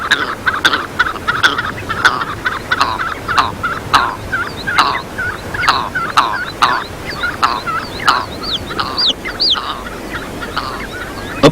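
Red grouse on the North York Moors, repeated loud close calls in rhythmic bursts, a continuous stream of harsh cackling notes with no talking.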